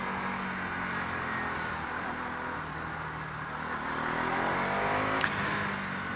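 A small 200cc Bajaj Pulsar NS200 motorcycle engine revs and pulls away, its steady drone rising in pitch toward the end, heard alone without talk.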